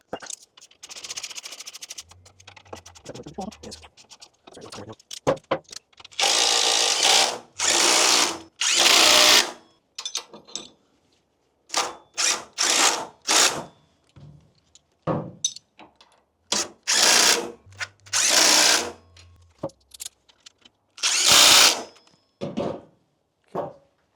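A power drill fastens engine guard bracket bolts in repeated short bursts, each whirring spin-up lasting a second or two and separated by quiet gaps, with a few knocks and clunks in between.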